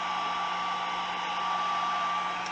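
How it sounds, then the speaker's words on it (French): A small hot air gun blows steadily while drying a thin paper card, producing a constant close whirring hiss with an even tone and no pauses. "Petit fusil à air chaud. Juste sécher, ça sèche vraiment rapidement, là."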